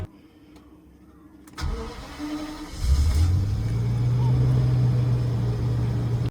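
A V12 car engine cranks and fires up after repair work, a short starter whir followed by the engine catching and settling into a loud, steady idle close by.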